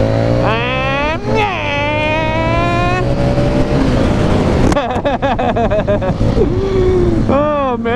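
A Harley-Davidson Street 500 motorcycle, its V-Rod-derived engine loud and close at speed, with rising and falling revs and gear changes while a voice talks over it.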